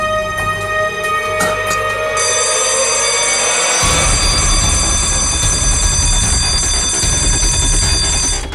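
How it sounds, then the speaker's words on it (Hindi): An alarm rings loudly and continuously, a bright ringing tone with layered overtones that grows harsher and denser about halfway through, with no voices. "सर अलार्म की आवाज आई"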